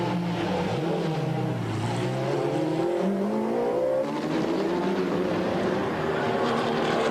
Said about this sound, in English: Weaving through the traffic, having just passed Bill Farmer's Par Motorsport Porsche